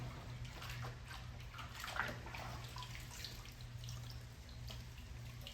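A detailing clay towel is soaked and worked in a container of water, giving a quiet, continuous wet swishing and dripping with faint splashes over a low hum.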